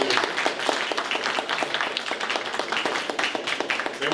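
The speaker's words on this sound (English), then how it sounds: "So ladies, just a quick round of applause, make everybody feel welcome." Audience at a tech panel event gives a quick round of applause, dense and steady clapping from a sizable crowd at moderate volume, close enough to pick out individual hands.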